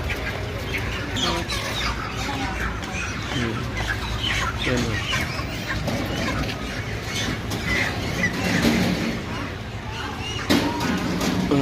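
Chickens clucking and squawking at a busy live chicken market, with people talking throughout and constant background bustle.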